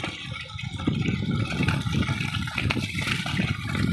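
Water gushes and splashes from a flushed drip irrigation pipe on a drumstick tree farm, clearing out clogging stones, a steady turbulent rush with a low rumbling hum beneath it, close and loud.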